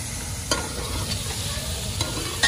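Chopped green chillies and tomatoes stirred into liver frying in a village kitchen produce a steady loud sizzle, punctuated by a few distinct spoon scrapes against the pan.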